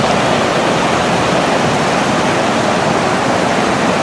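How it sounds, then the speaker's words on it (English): A river rushes between two mountains in the Himalayan range near Thimphu and Paro, Bhutan, its water producing a steady, loud, broadband roar like a waterfall that holds unchanged throughout with no voices. "In between two mountains, this river is flowing."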